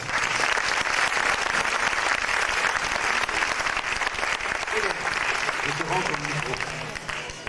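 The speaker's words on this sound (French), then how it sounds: "eux aussi méritent des applaudissements" An audience at a Dagestani folk dance performance gives loud, sustained applause, a thick continuous clapping texture that gradually thins at the end as a voice begins speaking.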